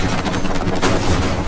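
A grenade blows up in The Walking Dead Telltale video game, a loud, dense, rumbling burst of noise that fills the whole short moment without a break.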